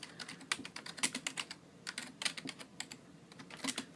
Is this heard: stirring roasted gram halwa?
no